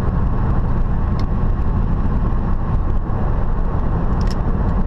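A 2000 Ford F-150 Flareside pickup truck heads onto the freeway, its engine and road noise forming a loud, steady low rumble throughout, with a couple of faint brief clicks and no speech.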